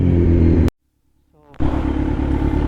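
Kawasaki Z900 motorcycle engine after an oil change, revving loud and close in a sustained roar, cut to silence for nearly a second, then a rising rev that bursts back into full throttle.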